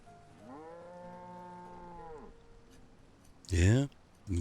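A cow in the video game Banished lets out one long, drawn-out moo, moderately loud over a quiet game backdrop, followed by a short, loud burst of a voice.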